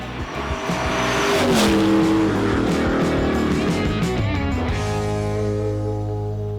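An LS V8-swapped Audi Quattro fitted with four diesel turbos runs on an all-wheel-drive dyno. The engine roars loud and near as it revs up, holds a strained high note, then eases down to a lower steady drone.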